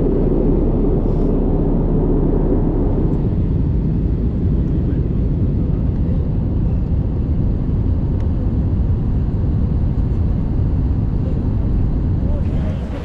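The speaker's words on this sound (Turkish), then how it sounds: "Uçağımız bu. Chennai uçuşu." An IndiGo airliner on a flight to Chennai, heard as a loud, continuous cabin roar of engines and rushing air that holds steady for the whole stretch.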